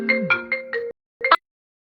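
A phone ringtone plays a short melodic run of tones, breaks off briefly, then gives a couple more notes before silence, loud and close with no voices.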